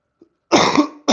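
A single harsh, close cough, loud and sudden, followed by the start of a second burst, standing alone without talk.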